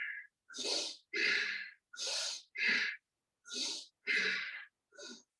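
Seven forceful breaths, alternating in and out during a lung capacity exercise, come in evenly spaced bursts with silent pauses between them, close and clearly audible with no talk.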